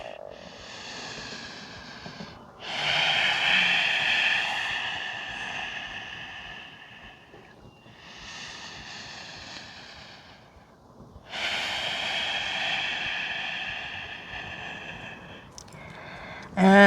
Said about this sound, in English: drop your head and breathe